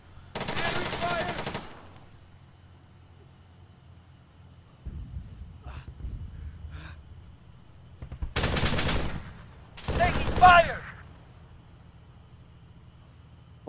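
Bursts of automatic gunfire from the video game ArmA 3, two or three loud, close, sustained volleys separated by quieter stretches with faint distant shots.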